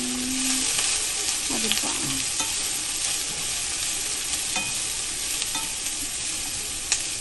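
Broccoli sautéed in a pan after the aromatics have turned golden brown: a close, steady sizzle with scraping stir strokes, and a brief spoken word near the start.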